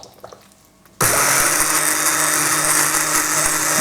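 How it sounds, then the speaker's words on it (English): A stick blender purees leek and potato soup, switching on abruptly after a quiet moment into a loud, steady whirring roar with liquid churning, sustained without talk. "Now I'm going to blend this up"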